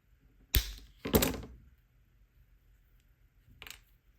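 Plastic being cut just above a hole gives a few sharp, close snaps and crunches, two in quick succession and a fainter one a couple of seconds later, with quiet between them.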